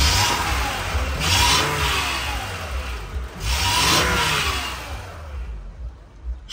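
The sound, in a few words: car engine revving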